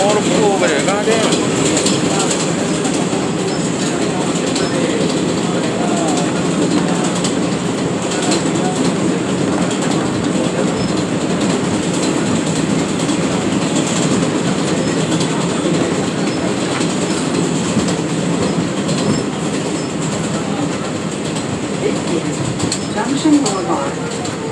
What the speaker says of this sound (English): Local 7 train.